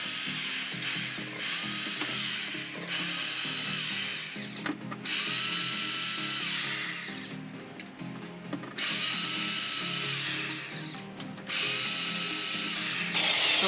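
A power drill bores out rivets on the lower wall panel of a school bus being converted, whining loudly up close in several long bursts, each separated by a brief pause.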